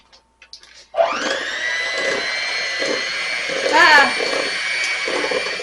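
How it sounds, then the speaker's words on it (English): An electric hand mixer whirs steadily through cake batter made with water and eggs, starting abruptly after a few soft clicks and holding a loud, even motor drone with a brief pitch wobble midway. "And we're going to mix this real quick."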